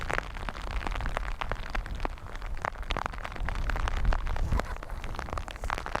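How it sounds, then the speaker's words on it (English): Hailstones and heavy rain fall at Dublin Airport, a dense close patter of sharp hard ticks and splashes on surfaces that continues steadily with no voices. "There's hailstones in this, as you can probably hear."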